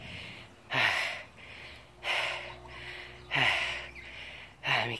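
A cyclist gasps heavily after a sprint interval on the road, with four loud, rhythmic breaths about a second apart, close to the microphone and no talking.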